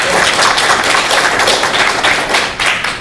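Dense, loud applause from a gathered audience at a public meeting, continuous crackling claps filling the whole moment without speech.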